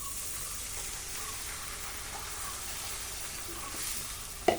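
Water with wheat in an upma pan heats on the stove, giving a soft, steady bubbling hiss that stays even and fairly faint, ending with a sharp click near the end.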